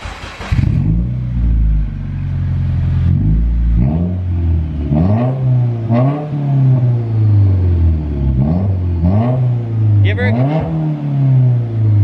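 Subaru WRX engine fitted with an Invidia N1 race version exhaust and catless downpipe, revved repeatedly in loud, rising bursts over a steady idle, with voices talking in the background between revs.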